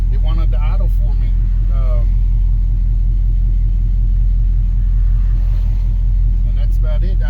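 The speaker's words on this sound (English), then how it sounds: "it's idling a little low right now" Chevy square body truck engine with Holley Sniper EFI idling a little low, a steady low rumble running throughout while someone talks over it.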